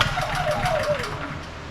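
A Honda EB3000C portable generator, running rough and surging, fires up on a pull start with the choke on: a brief mid-pitched engine catch and roar whose tone sweeps downward as it settles, close and loud.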